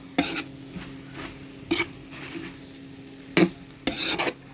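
A pan of dried shrimp and mango sizzles quietly while a utensil scrapes and stirs in several sharp, irregular strokes.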